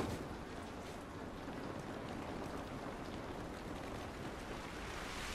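Steady, even rainfall in The Last of Us, a dense continuous patter with a surf-like wash that holds at one level throughout, with no voices.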